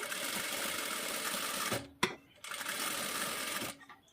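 A sewing machine stitches the back piece of a blouse in rapid runs of needle clatter, pausing briefly twice between bursts, close and fairly quiet with no talking.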